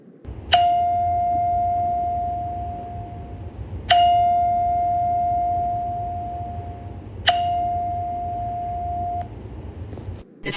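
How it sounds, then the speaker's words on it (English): A doorbell rings three times, each a bright single chime tone holding for a couple of seconds over a low background rumble, spaced a few seconds apart, with no one speaking. "Ringing the doorbell."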